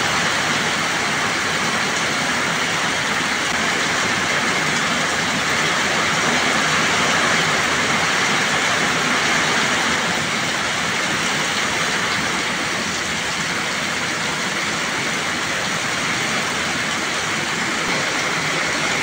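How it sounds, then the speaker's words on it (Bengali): Heavy record rainfall in Rangpur drumming on a house's tin roof, a dense, loud, unbroken roar that stays steady for the whole stretch with no voices. "হায় রে বৃষ্টি রে, ঘরের টিনের চালের উপরে একদম কুয়াশা পড়তেছে।"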